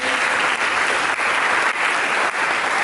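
A church congregation applauds for Jesus during an Ascension Day service, loud continuous clapping with a few brief dips, no speech over it.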